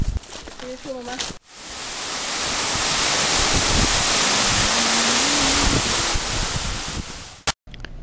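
Jungle waterfall reached on a hike in the Yungas Valley, a steady loud broadband rush of falling water that swells in and holds for several seconds, with brief voices near the start.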